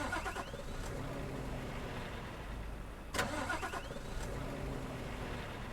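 The Scania R500 truck engine in Euro Truck Simulator 2 cranks and sputters without catching, a continuous mid-pitched churning with a sharp click partway through, steady and fairly loud.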